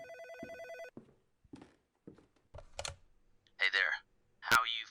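A telephone rings in a video game, with a clear electronic ring repeating for about a second, followed by scattered clicks, taps and bursts of talking.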